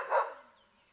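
A dog barks once during a safari drive at Djuma: a single short, moderately loud bark rises quickly and fades away, leaving only quiet background.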